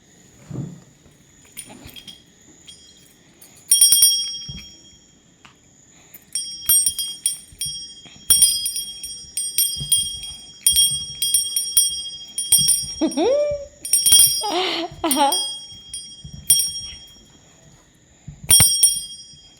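A small bell jingles in irregular bursts as a pet dog named Julie plays with it indoors, with bright metallic rattles clustered between quiet gaps and a brief whine-like vocal sound midway.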